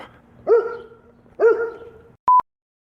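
Two sharp puppy barks about a second apart in a board game setting, each yelp ringing briefly before fading, followed by a short electronic beep tone, with no talking.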